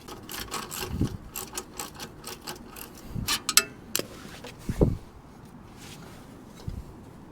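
Socket wrench with an extension and long socket working a wheel nut loose on a Triumph Speed Triple 1200RS motorcycle, giving scattered ratcheting clicks and a few sharp metallic knocks close by, with no talk.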